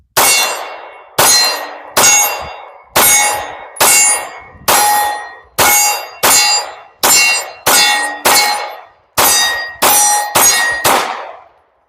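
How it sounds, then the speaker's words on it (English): A Glock 19 pistol fitted with a Leo Precision Shadow slide fires about fourteen loud, sharp reports in an uneven rhythm. Each crack is followed by a short ringing decay. "let's go ahead and throw some rounds down range, see how this bad boy performs"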